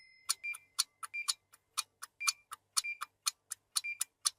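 A clock ticks in a regular, crisp rhythm, sharp clicks evenly spaced and fairly close, heard alone against a quiet background.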